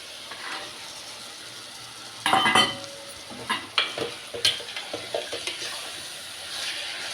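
Mutton pieces are dropped into a pan of frying onions, green chillies and tomatoes, followed by a steady sizzle and a series of scraping stirs that come close and clear with no talk.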